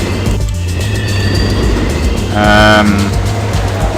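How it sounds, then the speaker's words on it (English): Subway train sounds from the Sim City 3000 city-building game: a loud rumbling rail run with a low hum, squealing tonal whines and a brief horn-like toot in the middle, heard alone without talk. "And since we have all this cash, we may as well build a subway system."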